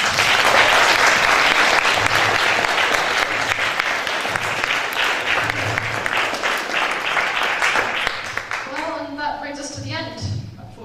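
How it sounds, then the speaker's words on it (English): An audience at a scientific session of International Echoes in Prague gives a big round of applause: dense, loud clapping that holds steady, then thins out near the end as voices come through. "A big round of applause to David."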